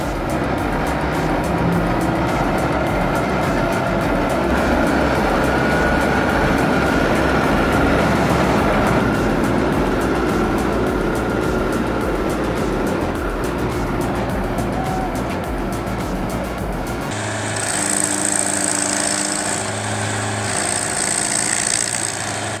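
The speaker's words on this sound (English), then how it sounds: "roaring engines, cables tightening, and pure force rising from the dirt" Heavy truck engines roar steadily as they pull a timber truck out of mud, a loud continuous drone that shifts to a different, more tonal engine pitch near the end.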